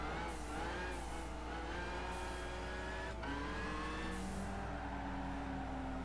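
Turbocharged DeLorean engine in the racing game Gran Turismo 5, a steady revving drone with rising and falling pitch sweeps and brief turbo hiss bursts, heard alone at moderate level.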